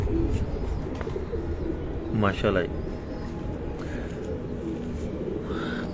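A golden pigeon in a rooftop pigeon loft gives a brief cooing call partway through, heard under a voice against steady outdoor background noise.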